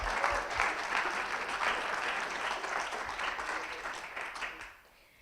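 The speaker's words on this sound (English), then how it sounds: "Let's give a round of applause." An audience applauds steadily at the close of an innovation fellowship pitch event in Indonesia, a dense sustained clatter of many hands that tapers off in the final half second.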